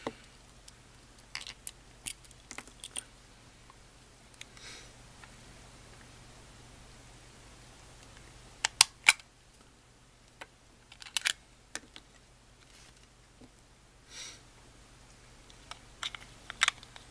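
Small plastic clicks and ticks come from batteries going into a Tamagotchi 4U+ toy, faint and sparse over near silence, with a few sharper snaps.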